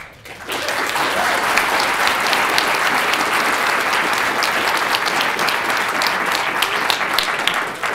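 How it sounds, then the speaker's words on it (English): A large audience at a national science-communication final bursts into sustained, dense applause, close and loud, continuing evenly for several seconds without talk. "Pretty good applause."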